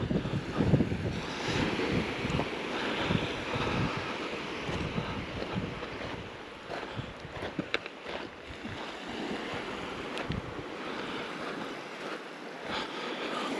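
Sea waves lap gently on the shore by a North Wales caravan site on a mid-May evening, a continuous soft wash of surf mixed with gusting wind noise on the microphone.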